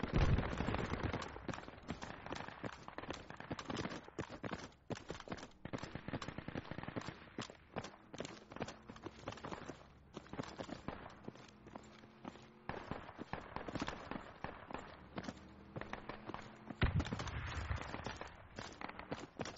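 Dense, continuous gunfire from a multiplayer shooter video game, rapid overlapping shots and bursts crackling throughout at close and mid range, with faint voices now and then.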